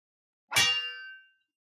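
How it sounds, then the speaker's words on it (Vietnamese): A small crimson bell, a demonic artifact in a fantasy tale, gives one bright metallic clang that rings on and slowly decays, heard alone. "chuông nhỏ đỏ thẫm lần nữa vang lên"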